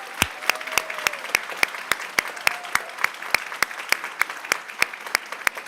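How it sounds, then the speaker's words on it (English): A school board meeting audience claps steadily, with a few sharp, evenly spaced close claps standing out over a softer room-wide round of applause. "big round of applause to all of them"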